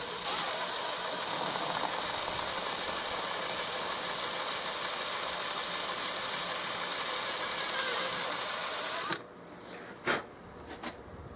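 A drilled hole is enlarged in the wood stock of a 16-gauge side-by-side shotgun. A power tool whirs and rattles steadily for several seconds, then stops, followed by a couple of sharp knocks.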